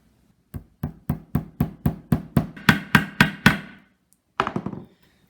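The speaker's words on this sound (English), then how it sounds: "you get a nice little small nail, and you take it and you just start hammering" A small nail being hammered into the wooden grip of a handmade warhammer: about twelve sharp, evenly spaced blows, close and loud, followed by a short pause and a final quick cluster of taps.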